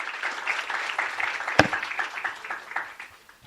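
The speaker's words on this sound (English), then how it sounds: "Give applause, ladies and gentlemen" Scattered applause from an audience welcoming a speaker to a talk at a polytechnic, a moderate, uneven patter of clapping hands with one sharp knock partway through.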